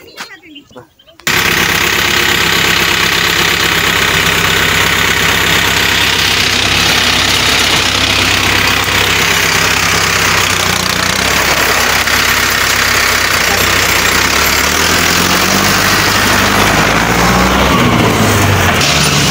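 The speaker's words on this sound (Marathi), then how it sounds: "नांगरायचं काम चालू होतं म्हणून ट्रॅक्टर घेऊन आलेलो आहे." Farm tractor brought for ploughing, its diesel engine idling loud and close: a rapid, rough, knocking rattle that starts abruptly after a brief quiet moment and keeps running steadily to the end.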